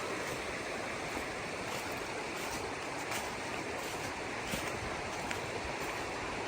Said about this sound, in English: The creek on my left side now.